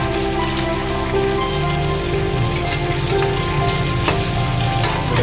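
Small onions sizzle steadily in a hot pan, a continuous dense frying crackle close to the mic with no voices, as the base of a ridge gourd kootu is cooked.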